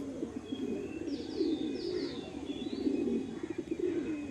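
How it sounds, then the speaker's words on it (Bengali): A male pigeon coos in a soft, rolling low purr that carries steadily from nearby, with a few faint higher bird chirps in the background. "তো আরেকটা কালাঙ্কা পায়রা দেখাচ্ছি, এটাও নর পায়রা।"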